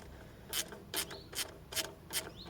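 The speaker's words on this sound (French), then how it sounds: "même essayer avec ma petite clé à cliquer" Five quick ratcheting bursts from a small ratchet wrench loosening the bolts on a Jaguar's EGR valve, each click run short and close, spaced about every half second with quiet between.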